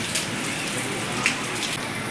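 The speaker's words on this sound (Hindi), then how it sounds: "सुबह से बारिश हो रही है बहुत ही ज़्यादा" Heavy rain falls steadily on surfaces, a close, dense patter with occasional louder drops, with no voices.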